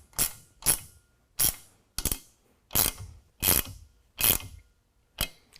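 A hand ratchet tightens hardware on a rack system on a 2019 Ram 1500. It makes eight sharp, evenly spaced ratcheting bursts at close range, each about a third of a second long with short pauses between them, and no one speaks.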